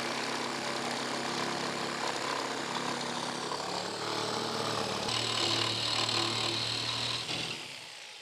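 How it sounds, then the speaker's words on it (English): Power saw cutting a window opening through shed siding propped on 2x4s, a loud continuous whining cut with a rising pitch near the end before it stops. "I've placed a couple of 2x4s under here to give me enough height to cut this with my saw"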